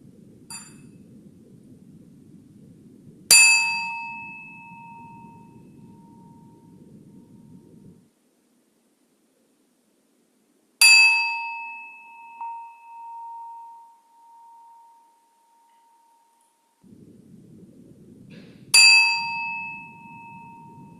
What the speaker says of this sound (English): I will now ring the bell to signal the end of this meditation together.